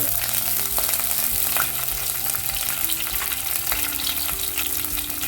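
Fenugreek seeds, cumin and torn curry leaves frying in oil in a clay pot for tuna curry, a dense close sizzle and crackle running continuously with faint stirring scrapes and a low background hum.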